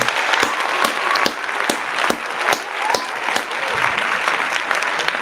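A round of applause for a guest, steady clapping from a crowd lasting throughout at an even, fairly loud level with sharp individual claps standing out.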